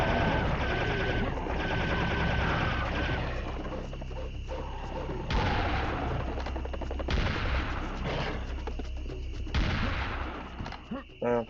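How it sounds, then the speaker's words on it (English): Rapid sustained laser gun fire from Serious Sam: The First Encounter on the Karnak level, a dense continuous crackle of shots mixed with heavy booms and roaring monsters, loud and unbroken throughout with no talking. "next wave we can just use the laser gun here"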